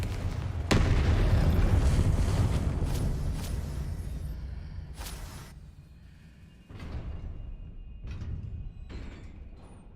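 Incendio and Confringo spells blast in Hogwarts Legacy, a game, as several loud, sharp explosive booms with rumbling tails erupt one after another, separated by brief lulls.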